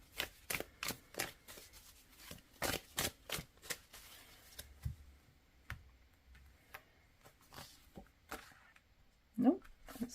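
Tarot cards are shuffled by hand in a quick run of crisp, close ticking flicks, then a few sparser taps and soft rustles as the deck settles.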